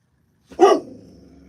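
One sharp, loud bark from a dog aimed at the neighbors, heard up close, followed by a quiet stretch with only a faint low hum.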